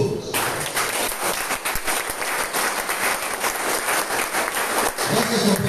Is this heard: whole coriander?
no